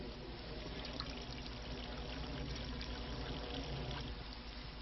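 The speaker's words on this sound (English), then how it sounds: "What we do now is pour the water through this and collect at the other end." Water trickles and pours through an improvised sock filter packed with charcoal, sand and moss, a steady close dribbling stream that continues evenly throughout with no talking.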